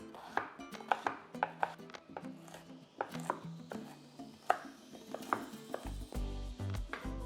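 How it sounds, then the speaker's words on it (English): A knife chops white onion on a board for chicken tacos dorados, with a series of close, sharp, irregular thuds and taps over faint background hum. "we're gonna start by chopping onion, white onion and or tomato"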